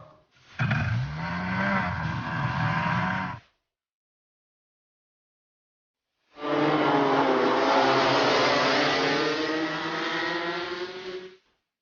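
A racing car drives on a race track. It gives two loud passes of engine roar with a harmonic whine shifting in pitch, separated by about three seconds of silence, and there is no speech.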